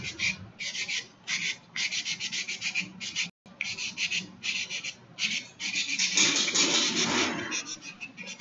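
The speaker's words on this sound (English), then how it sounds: "We're just going to sand this thing down." A part being sanded by hand on an off-road tractor project: close, steady back-and-forth rasping strokes in quick bursts, a brief pause partway through, then a longer, denser stretch of scraping toward the end.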